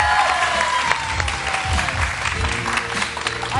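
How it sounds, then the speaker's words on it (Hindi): Full studio audience applause on a morning TV show, dense continuous clapping at a strong level, with a low background tone and faint crowd murmur running underneath. "तो तालियां हो जाए जरा"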